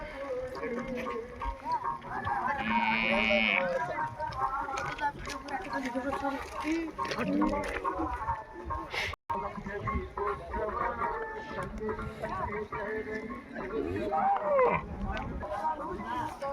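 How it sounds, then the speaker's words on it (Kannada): A busy outdoor Sankranti livestock fair in Bijapur: cattle and bullocks low now and then amid a constant murmur of crowd voices, with occasional hoof clatter nearby. "ನೋಡ್ರಿ ಹೆಂಗದಾವ ಎತ್ತುಗಳು."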